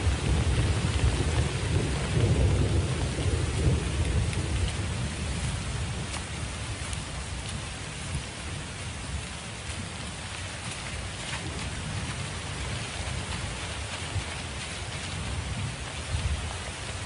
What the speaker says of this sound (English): the November rains soak the parched ground